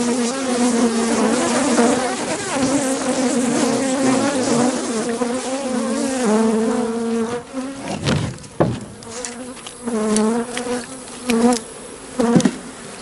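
Honey bees buzz in a hive box split holding about two frames of bees, a dense, close, continuous drone that swells and dips, with a few sharp knocks and handling noises near the end.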